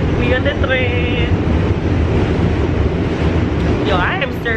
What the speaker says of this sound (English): We on the train.